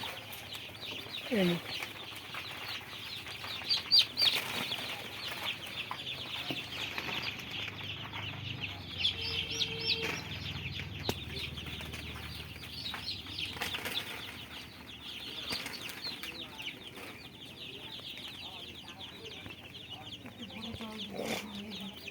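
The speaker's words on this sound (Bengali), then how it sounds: "পঞ্চাশ পিস মুরগি ছাড়া হয়ে গেছে।" About fifty small desi chicks and chickens cheep and cluck continuously as they are released, a busy chorus with occasional wing flutters and scattered background noises.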